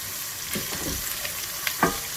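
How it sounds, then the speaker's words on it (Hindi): Turmeric frying in hot oil with garlic and ginger over low heat for a desi kofta curry, a steady close sizzle with a few soft stirring scrapes and one brighter clink near the end, no voices. "अब हम इसमें हल्दी डाल के थोड़ा सा पहले हल्दी को फ्राई करेंगे ताकि वो कच्चा ना रहे।"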